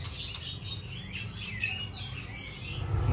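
A female siapan (prinia) in a bird shop gives a run of thin, high chirps and short tweets, fairly near, over a low steady hum from the shop.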